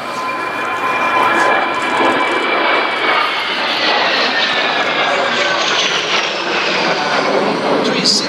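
Patrulla Aguila jets performing aerobatic rolls at an airshow, a loud continuous engine roar with sweeping whine that fills the whole stretch, steady and close, with a public-address voice faintly underneath.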